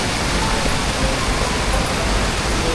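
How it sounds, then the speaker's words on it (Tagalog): Strong river current rushes in a dense, unbroken broadband roar, loud and close, with no pauses or voices. "Lakas ang agos oh."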